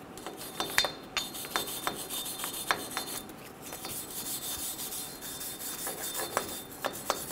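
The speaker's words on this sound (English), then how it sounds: "Using a wire brush, we're going to clean the hub." Rough, rhythmic scrubbing of a wire brush against a Toyota Tacoma's front wheel hub, repeated strokes close up with small clinks, no voices.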